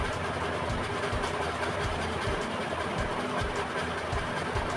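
A sewing machine runs steadily while stitching a cloth bag, giving a continuous close mechanical whir with a fast, even rhythmic clatter and no pauses.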